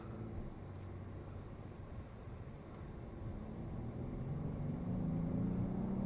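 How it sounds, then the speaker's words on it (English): 2025 Genesis G90 luxury sedan accelerating at almost full throttle, a faint, steady engine drone heard from the cabin that swells slowly toward the end. "I'm going to punch it a little bit because I want to see a little bit about, what is the performance really like."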